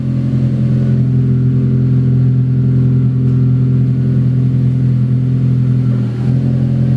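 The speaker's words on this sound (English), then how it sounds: "Driver's side is spinning, let's put it in a gear." A Honda Civic Si, fitted with a new stage 3 clutch, runs in gear while its axles spin, making a loud, steady, close engine drone with a strong low hum and no change in pitch.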